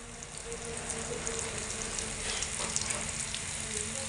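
Carambola and split cashews fry in a pan of hot oil for a sweet-sour carambola pickle, giving a steady, close sizzle with faint crackles throughout.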